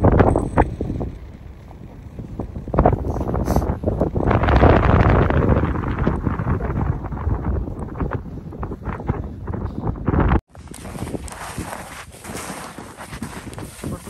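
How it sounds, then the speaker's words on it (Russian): Strong wind and a blizzard roar and buffet the microphone in a cold reindeer herding camp, gusting loudly before suddenly dropping to a thinner, steady hiss. "Ветер, метель."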